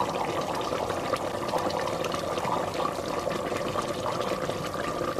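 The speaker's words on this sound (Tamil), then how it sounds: "சுடுத்தண்ணி ஊற்றுங்க, பச்சை தண்ணியெல்லாம் ஊற்றாதீங்க" Hot water pours steadily into mutton gravy cooking in a pressure cooker, a continuous splashing, gurgling flow close by with no talking over it.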